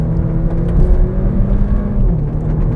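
A 156-horsepower Volkswagen Polo heard from inside, engine droning loudly and steadily with a slight rise in pitch under road and cabin rumble, no talk.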